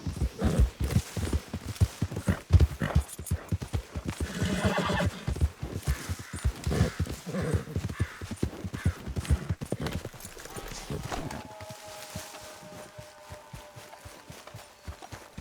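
A horse in the Red Dead Redemption 2 video game whinnies loudly and gallops, with rapid close hoofbeats running under a voice before the hooves fade near the end.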